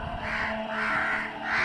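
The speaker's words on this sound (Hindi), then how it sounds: "उसके रुकते ही विंडशील्ड पर एक कौवा जोर से जा टकराया।" A crow caws loudly and repeatedly as a story sound effect, several harsh calls close up and alone with no talk, marking a crow striking a car windshield outside a monastery door.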